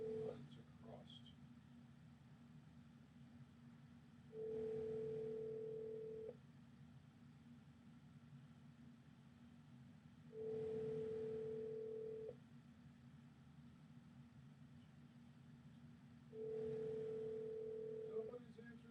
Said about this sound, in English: Nobody's answering the phone.